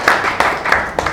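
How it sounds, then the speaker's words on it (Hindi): An audience at an award show claps in a short burst of steady, fairly loud applause with a few sharper accents. "ताली ताली ताली"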